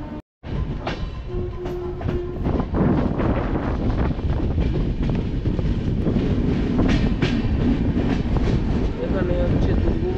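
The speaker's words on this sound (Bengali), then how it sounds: "এবারে কিন্তু আমাদের ট্রেন ফের আবার বেঙ্গলে ঢুকছে।" The 12343 Darjeeling Mail runs from Kolkata toward Darjeeling, heard from on board as a loud, steady rumble with rhythmic wheel clatter and gusting wind noise.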